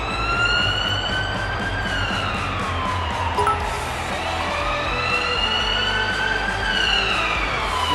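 An ambulance siren wails in a loud, continuous sweeping tone that rises and falls, with no one talking over it.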